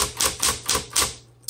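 Keys struck on a red 1960s Smith Corona Electra 110 electric typewriter: four sharp, evenly spaced clacks under a steady motor hum, close and fairly loud.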